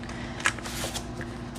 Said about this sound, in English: pull out our cash, and start stuffing our envelopes